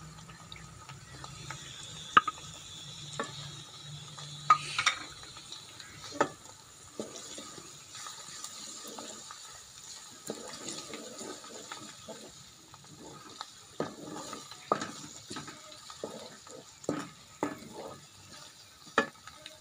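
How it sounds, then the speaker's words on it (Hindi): Ginger-garlic paste sizzling in a pan for a beetroot and cauliflower sabzi, stirred with steady scraping strokes and occasional sharp utensil knocks against the pan over a soft frying hiss. "अब इसमें अदरक और लहसुन का पेस्ट डाल देंगे।"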